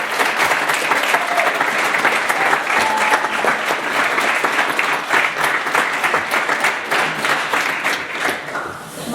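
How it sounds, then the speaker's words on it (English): A crowd at a competition finals event gives a round of applause, a loud, continuous burst of many hands clapping with distinct individual claps audible, swelling and dipping slightly before easing off near the end. "we need to give a round of applause to Mike."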